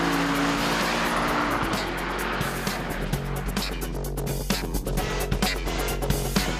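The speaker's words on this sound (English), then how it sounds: "Rally ace Enzo Kuhn brought a spectacular Audi R8 to Knysna and soon showed the gentleman racers how it's done" An Audi R8 with quattro all-wheel drive races up the Knysna Simola hillclimb, its engine roaring loud and continuous through gear changes, with tyre squeal and sharp bursts as it powers along the course.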